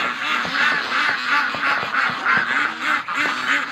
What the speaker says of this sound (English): Let's go let the ducks out.